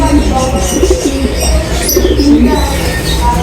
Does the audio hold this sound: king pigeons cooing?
yes